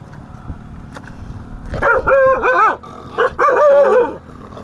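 Farm dogs guarding a herd of cows in a forest at night bark in two loud, close bursts of several yelping barks each, after a quiet stretch of faint background noise.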